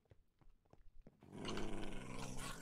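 Dogs growl and snarl at each other at close range, starting with a few short low grumbles and breaking into a loud, continuous snarling scuffle that lasts to the end.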